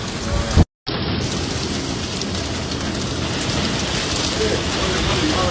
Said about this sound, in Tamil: நேற்றைய தினம் வரலாறு காணாத கனமழை பெய்திருக்குது